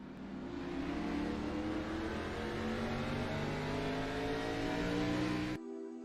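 Race truck engine roaring at speed at Daytona, a loud, sustained, steady drone with rising harmonics for about five and a half seconds before cutting off abruptly.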